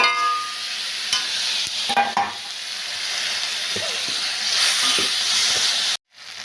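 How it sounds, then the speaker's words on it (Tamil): Grated carrot, capsicum and onion sauté in hot oil in a pan for a leftover idli stir-fry, a steady loud sizzle with scraping stirs, cut off abruptly near the end. "இதுவும் கொஞ்சம் வதங்கட்டும்"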